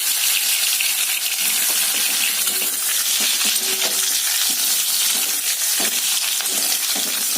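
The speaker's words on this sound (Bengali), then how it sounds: "আলুগুলো হাইট করেছি, ভেজে নেবো, সেদ্ধ আলু।" Boiled potatoes fry in hot oil in a kadai, giving a steady, dense sizzle that fills the whole span without pause.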